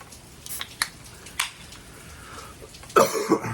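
A single close cough with a throat-clearing quality comes near the end, after a few faint clicks and small noises in an otherwise quiet room.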